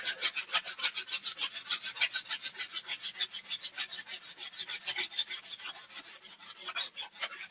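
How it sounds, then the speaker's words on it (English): Rough-grit sandpaper rubs back and forth over a piece of wood in quick, even strokes, a close, dry rasping rhythm of about six strokes per second that continues steadily throughout. "I gotta take this really rough grit sandpaper."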